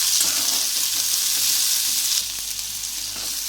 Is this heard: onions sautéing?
yes